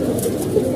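Racing pigeons in a loft, a short burst of close low cooing from several birds, fairly loud and alone without speech.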